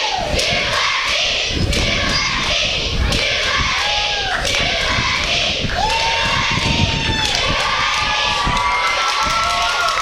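A crowd of kids cheers and shouts continuously at a Dawson vs MSVU basketball game, a loud, sustained roar with sneaker squeaks and thumps from the court mixed in.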